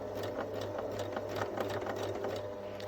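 A sewing machine stitches the ear of a fabric bunny toy, running steadily at close range with a fast, even mechanical whir and rapid needle ticks throughout, with no voices.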